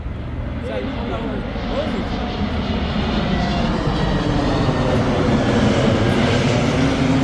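A loud, steady airplane engine roar that slowly swells, with voices talking faintly underneath.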